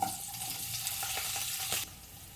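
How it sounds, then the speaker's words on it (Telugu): Green chilies fry in hot oil in a pan, a soft steady sizzle with light stirring scrapes, fairly quiet and close. "ఇందులోనే పచ్చిమిర్చి వేయించుకోవాలి."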